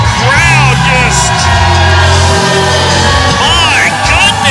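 Wrestling crowd in Oroville shouting and jeering loudly at a bald wrestler, a dense, continuous roar of overlapping yells and whoops filling the hall without a break.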